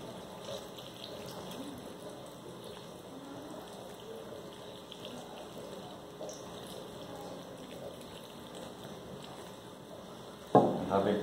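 Water poured steadily into a pot of osso buco (beef shank) to cover the meat, a continuous close gushing splash that runs throughout, ending with a brief louder clatter.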